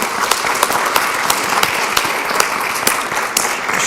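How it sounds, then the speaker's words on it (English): People at a school board of education meeting give a round of applause for a middle school staff member. The claps are close and loud, with individual sharp smacks standing out from the steady patter. "That alone leads to a round of applause,"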